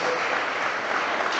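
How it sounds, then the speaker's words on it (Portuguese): A church congregation claps for Jesus in a brief, dense burst of applause that stays loud and even throughout. "dá uma salva de palmas para Jesus"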